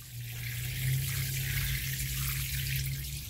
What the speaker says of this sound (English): then we'll just water that in, and that's it